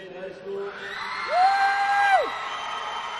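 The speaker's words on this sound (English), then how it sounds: "a big cheer for Cascade as they're awarded their relay state championship" Crowd at a high school state swimming championship cheering as a relay team receives its trophy, a broad roar of voices rising and swelling with a loud sustained whoop over it, while an announcer talks.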